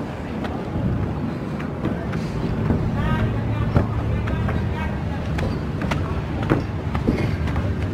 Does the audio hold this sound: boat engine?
yes